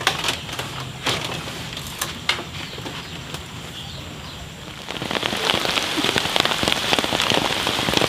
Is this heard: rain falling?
yes